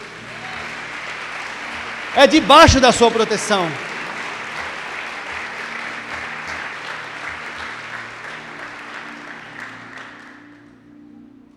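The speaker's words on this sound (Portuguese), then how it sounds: "Você pode aplaudir ao Senhor por isso?" Church congregation applauding during a sermon, a long sustained wave of clapping that swells and slowly fades away, with a voice speaking over it early on.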